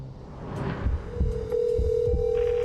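A telephone rings on a call, heard as a steady electronic ring tone that starts partway through and holds under a few dull, low thumps.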